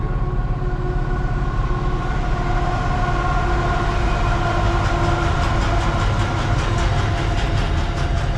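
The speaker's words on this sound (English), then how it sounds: "I was hoping for no trains, but I just see some lights coming behind me" A train rolls past a truck parked at night at Coburn on the South Australian border, a loud continuous rumble and rail clatter with sustained tonal whine and horn-like tones filling the whole stretch.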